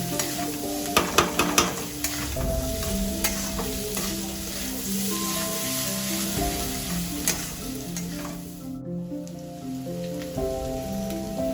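Vegetables for veg chowmein stir-fry in a pan, a continuous loud sizzle broken by quick metallic scrapes and clanks of the spatula, with music playing underneath.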